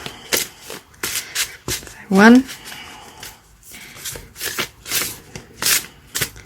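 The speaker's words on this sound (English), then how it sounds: "I'm not very good at shuffling." Gel-print postcards being shuffled by hand as a deck, a brief riffle of card flutter amid steady talk, with soft handling rustles around it.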